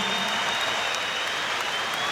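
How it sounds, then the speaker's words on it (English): Crowd at a WBO world light heavyweight title boxing fight applauding both boxers after the bout, a steady dense wash of clapping from a large arena audience, continuous and even throughout. "a round of applause for both boxers who gave their all"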